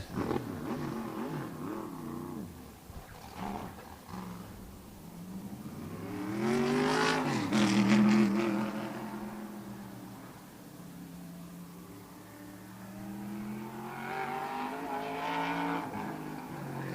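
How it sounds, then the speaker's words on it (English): A race car spins coming out of turn four at a speedway during the Turkey Derby at Wall Stadium, with engines revving and rising and falling, heard fairly distantly, with a drawn-out tire squeal in the middle. "Spins coming out of turn number 4."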